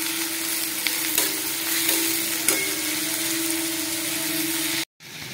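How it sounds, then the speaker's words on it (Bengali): Onions and capsicum fry in a pan, giving a steady close sizzle that runs unbroken for about five seconds, with a few sharp stirring clicks along the way, before a sudden brief cut to silence. "যতক্ষণ অবধি ক্যাপসিকাম পেঁয়াজগুলো মজে না যায় ততক্ষণ অবধি আমি ভেজে নেবো।"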